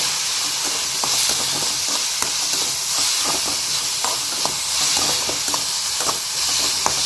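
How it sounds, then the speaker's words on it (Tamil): Vegetables for carrot rice sautéing in a pan, a steady close sizzle and hiss with frequent light scrapes and clinks of stirring throughout, no voices. "இப்போ இதையும் சேர்த்து நல்லா வதக்கிக்கலாம்"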